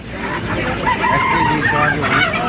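Chickens clucking and crowing at a busy village poultry market in Bangladesh, loud and continuous, with people's voices chattering underneath.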